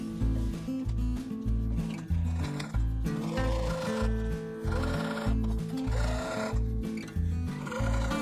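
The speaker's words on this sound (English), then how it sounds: "I'm just going to stitch it together on all 4 sides." A sewing machine stitches fabric together along all four sides, running in steady bursts of rapid mechanical chatter with short pauses between runs, close and loud without any talk.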